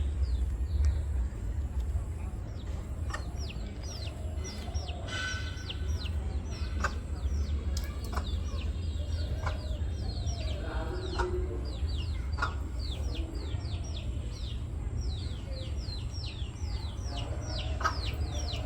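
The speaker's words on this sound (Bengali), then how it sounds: "এটা অন্যজনের মুরগি, কার মুরগি জানি না" A neighbour's hens wander near a house, clucking repeatedly at a moderate distance over a steady low rumble, with scattered chirps from small birds throughout.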